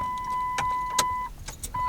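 A third-generation Cummins diesel truck is switched on, a steady electronic chime tone sounding over a constant low engine-like hum with a few faint clicks.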